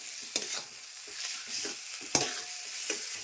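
Mashed boiled potatoes being stirred and sautéed in a thin curry in a pan, with soft scraping strokes and a steady low sizzle, a few sharper clacks of the spoon against the pan, close and moderately quiet.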